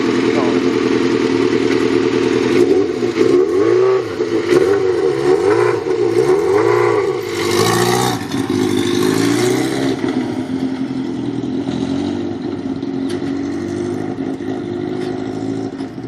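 A motorcycle engine revs and accelerates, rising and falling in pitch repeatedly as it shifts up through the gears, loud and near, with a steady drone afterward.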